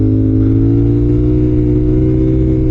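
A motorcycle engine holds a steady, loud rev as the clutch is dumped to lift a wheelie, a continuous throaty drone with no talking.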